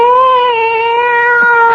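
A cat gives one long, drawn-out meow in a radio drama, loud and close, holding steady in pitch with no talk over it.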